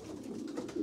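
Pigeons coo softly in low, throaty rolling murmurs, continuous and close, with no talking.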